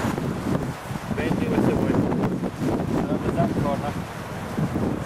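Gusty wind buffets the microphone outdoors at a campsite while a tent is laid out, a steady broadband roar that swells and eases for about five seconds, with faint voice-like sounds mixed in.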